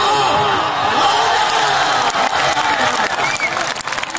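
Loud crowd applause mixed with cheering and whoops at a lively outdoor gathering, a dense continuous roar of clapping that thins slightly toward the end, with voices mingled in.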